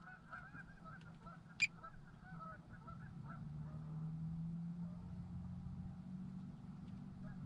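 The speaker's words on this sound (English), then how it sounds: "They're swimming with the geese." Faint geese honk intermittently in the distance over a steady low rumble, with one sharp brief sound standing out, the geese swimming near ice.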